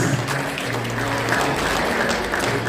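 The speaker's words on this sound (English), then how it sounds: "Ladies and gentlemen, a round of applause again for Uncle Mustafa" Audience applause at a cricket fundraiser dinner in Sydney, short and steady, with a crowd clapping under a faint hum and some background voices.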